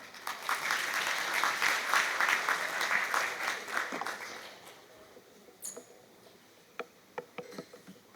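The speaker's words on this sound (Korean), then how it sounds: "큰 박수 부탁드리겠습니다" Applause from an audience at an AI lecture event in Daegu, steady for about four seconds, then thinning out into a few scattered claps.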